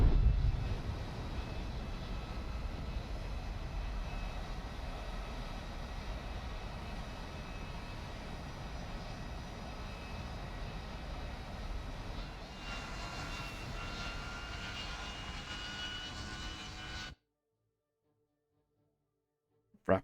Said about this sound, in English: rapidly increasing A10 engine sound pitch